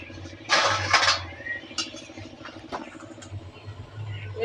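A lid goes onto a pot of chicken kosha curry with a short double metallic clatter early on, followed by faint clinks over a low stove hum.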